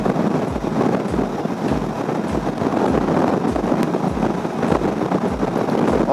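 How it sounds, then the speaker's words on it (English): Steady buffeting wind roar at a 2017 Suzuki V-Strom 650 rider's helmet fitted with a Givi Airflow screen, a continuous rushing noise with a low rhythmic thumping underneath while riding. "there's a bit of wind."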